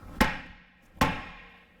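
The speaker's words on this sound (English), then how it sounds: "So what I do is I take my hammer end and we're just gonna hit it a couple times." A hammer strikes a solid steel steering knuckle twice to pop loose an outer tie rod end on a Toyota, two sharp, loud metallic blows spaced under a second apart, each with a ringing decay.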